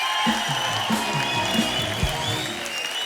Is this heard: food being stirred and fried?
no